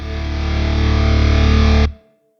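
A heavily distorted electric guitar played through a Fractal Audio FM9 rings out as one sustained, loud chord that swells and holds before being cut off abruptly, leaving a short fading tail.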